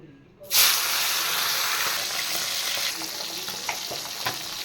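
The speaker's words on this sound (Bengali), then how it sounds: "এবার আমি মাছগুলো ভেজে নেব" Fish slid into hot oil in a wok, bursting into a loud sudden sizzle after a quiet moment, then settling into a steady close frying hiss with scattered pops and crackles.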